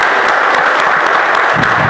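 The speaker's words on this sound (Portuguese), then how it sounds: "vamos dar aquela linda salva de palmas ao Senhor Jesus" A church congregation applauds together, a dense, steady wash of clapping that holds loud and continuous for two seconds with no talk over it.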